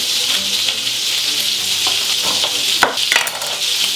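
A pork roast sears in a hot pan, giving a steady close sizzle throughout, with a few louder crackles and scrapes near the end as it is turned to brown the sides.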